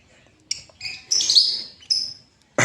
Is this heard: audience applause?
no